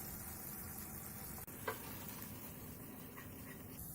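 Ginger, green chilies and dry spices sizzle in a pan for an eggplant tomato curry, a faint, even hiss held throughout with one brief click partway through.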